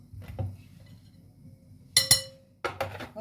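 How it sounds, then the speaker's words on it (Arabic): A spoon clinks against a glass while stirring a mango jelly mixture, a few sharp, close metallic taps in quick pairs separated by quiet gaps. "فانا اقلب الخليط ببعضه اهو"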